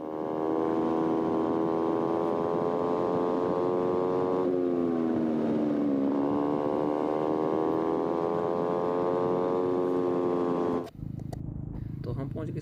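A motorcycle rides fast on the Shimla–Chandigarh highway near Kasauli, its engine a steady, close, droning whine that dips twice in pitch before cutting off near the end, where a voice is briefly heard.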